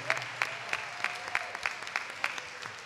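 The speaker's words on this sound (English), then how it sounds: "Give her a round of applause" Scattered, thin applause from a small panel audience, individual claps spaced unevenly and sounding fairly close but quiet, with no voices over it.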